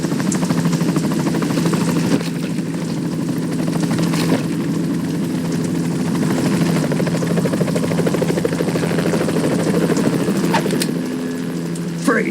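In Metal Gear Solid 2, a helicopter's rotor chops and its engine drones in a steady, loud, close wash that continues the whole time, with faint metallic knocks on top and no talking.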